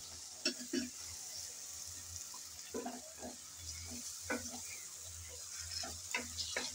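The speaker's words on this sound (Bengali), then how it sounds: "টমেটো আর মরিচ দিয়ে ভালো করে নেড়ে চেড়ে কষিয়ে নিচ্ছি" Tomatoes and chillies fry in a pan for a fish curry as a soft constant sizzle runs under scattered spoon scrapes and stirring knocks, fairly quiet and close, with no one speaking.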